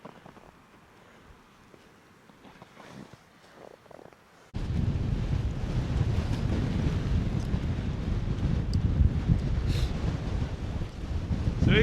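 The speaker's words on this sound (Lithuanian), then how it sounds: "Labai didelis vėjas." Strong wind on a mountain near Zakopane, Poland, starts suddenly partway through and roars loudly and continuously, buffeting the microphone after a quieter opening.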